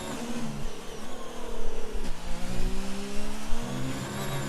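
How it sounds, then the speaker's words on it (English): A race car engine in a racing video game at the Abu Dhabi Grand Prix, buzzing steadily while bouncing against the rev limiter, with a drop in pitch midway before climbing and holding again. "Riding the rev limiter through there and giving the wall a little tap"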